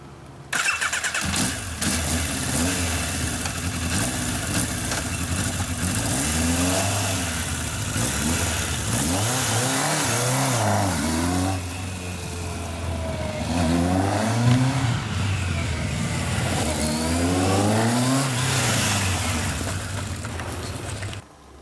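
A Yamaha FJ 1200 motorcycle engine cranks and catches after final setup and carburetor synchronization, then settles into a rough idle and is revved up and down several times, each climb and fall in pitch loud and close.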